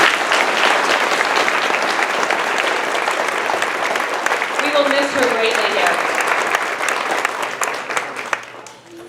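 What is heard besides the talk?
audience applause at elementary school ceremony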